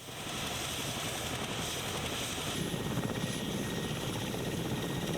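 Mi-8 helicopter running continuously with a dense, steady rotor and engine roar, loud and close, filling the whole stretch without talk.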